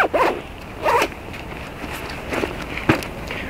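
The zipper on a 5.11 Tactical Rush 72 backpack is drawn in a few quick rasping pulls, close and clear, with lighter handling rustle between strokes.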